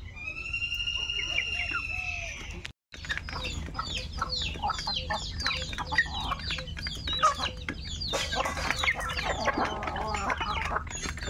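Ducks, including Chinese ducks, and chickens cluck and call steadily in a yard coop, a dense run of close, overlapping chatter with a brief break near the start and people talking faintly underneath.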